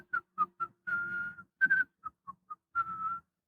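A person whistles a short tune up close, with brief chirped notes and a few longer held tones in a clear melody.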